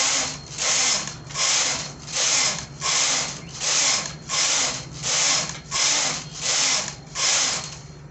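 A knitting machine works straight plain rows at tension 5, its carriage sweeping back and forth in about a dozen regular whooshing, rattling passes, each rising and falling in an even rhythm.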